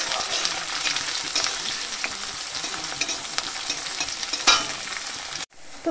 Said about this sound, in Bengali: আমার কিন্তু পেঁয়াজ আর রসুনটা ভালো করে ভাজা হয়ে গেছে